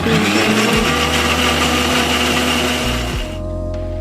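Kitchen blender grinding tomato into a fine paste, a loud steady high-pitched whir with pitch shifts as the load changes, running alone and close before easing down near the end.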